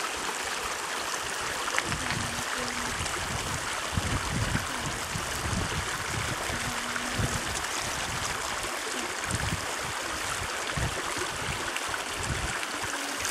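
A gold pan being swirled and washed in creek water gives a steady, close rushing of flowing water with sloshing pulses from the pan.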